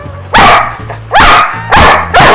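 A dog barks three times in loud, spaced bursts, each a sharp yelp with a tonal edge, with a low steady hum running underneath and no talking.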